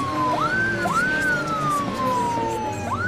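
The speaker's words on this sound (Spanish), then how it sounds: "Ambulancia." A loud wailing ambulance siren rising and falling repeatedly, close by and continuous, with traffic rumble beneath.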